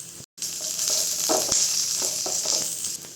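Cumin seeds and curry leaves sizzle steadily in hot oil while tempering a radish sambar, a loud, continuous close crackle with a few stirring scrapes and no voices.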